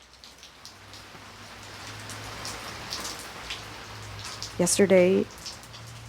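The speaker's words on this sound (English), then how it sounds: "And of course, it rained that night." Night rain falls steadily on makeshift shelters of displaced people in Iraq, a soft continuous patter throughout, with a voice speaking briefly near the end.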